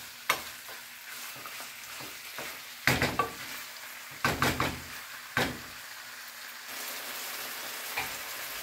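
Pork spareribs browning in a pan while being stirred, giving a steady sizzle broken by several loud scraping, knocking strokes of the spoon against the pan at irregular intervals.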